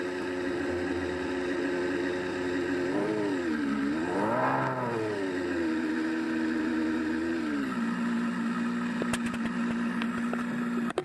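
A small city car modified for more performance revs its engine, rising and falling in pitch as it climbs through the revs, then settles into a steady idle drone, heard close with no talking.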